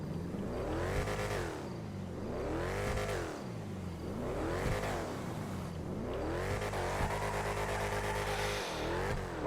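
A car engine in the video game GTA 5 revs repeatedly, rising and falling in about five smooth surges through gears, loud and steady with no talking over it.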